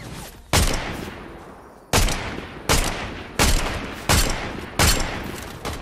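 Gunfire in the video game Fortnite: six sharp, loud shots spaced about a second apart, each with a fading tail, and no talking.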